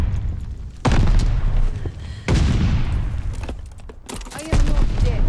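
Gunfire in a video game: several loud, booming shots at irregular intervals, each with a heavy rumbling tail, with a few sharper cracks and faint background clatter between blasts.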